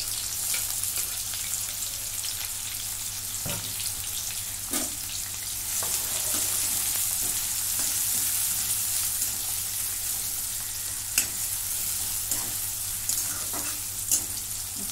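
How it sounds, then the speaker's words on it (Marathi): Finely chopped onion sizzles steadily in hot oil with cumin seeds in a wok, a continuous close frying hiss with occasional soft pops and stirring clicks and no talking. "कांदा चांगला मी भाजून घेते तांबूस रंगावरती."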